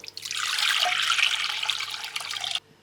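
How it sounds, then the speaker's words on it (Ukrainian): Warm water pours steadily in a continuous splashing stream for over two seconds, then cuts off abruptly. "Для опари беремо воду, теплу воду"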